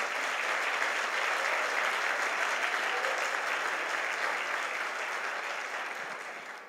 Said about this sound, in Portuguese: Então dá um aplauso a Jesus.